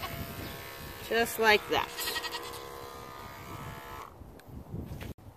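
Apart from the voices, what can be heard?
electric clippers clipping a dairy goat's hair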